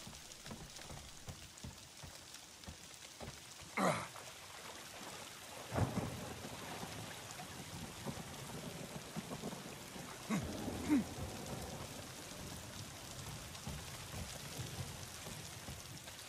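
Steady rainfall in a forested setting in the game Days Gone, with several thunder cracks and low rumbles breaking through at intervals, no talking.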